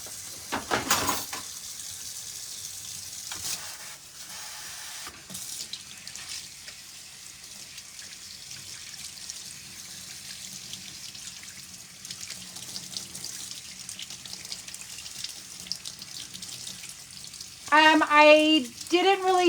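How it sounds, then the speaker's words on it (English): Tap water runs in a kitchen sink during handwashing, a steady hiss with occasional splashes and clatter, fairly close and without talk. "let me wash my hands"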